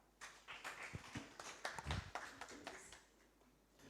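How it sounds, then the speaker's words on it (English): Audience applause for a speaker at a women-in-financial-markets professional event, a scattered burst of clapping that swells and then thins out over a few seconds, with no talk over it. "A round of applause for Farayi."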